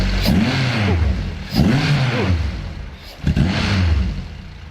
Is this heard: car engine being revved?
yes